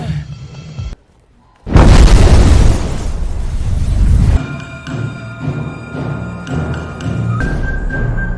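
A huge explosion in a post-apocalyptic film bursts in after a moment of silence, roaring loud and broad for a few seconds, then fades into a low rumble with thin high ringing tones.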